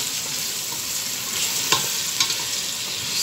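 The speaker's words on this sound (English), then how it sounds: "I pour it inside, then I stir." Fried rice with carrots sizzles steadily in a pan while a spoon stirs it, giving a few distinct scraping clicks over the constant frying hiss.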